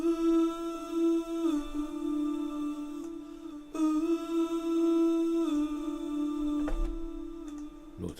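Four-voice synth chord drenched in heavy delay, with paired identical voices panned hard left and right, sustaining as a steady drone-like tone with a few soft shifts and no talking.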